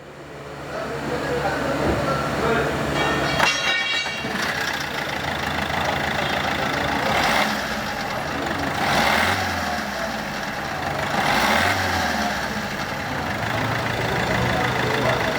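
Opel Corsa 1.3 CDTI diesel engine cranking and catching with a short burst, then settling into a steady, clattering idle heard close up, with a few swelling rises along the way.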